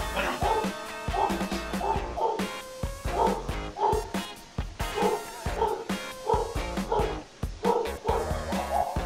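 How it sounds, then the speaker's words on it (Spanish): Dogs bark over and over in short, loud bursts with an irregular rhythm, some yips and whimpering mixed in, close by and alone with no talk. "¿Por qué se les ocurre ladrar a los perros?"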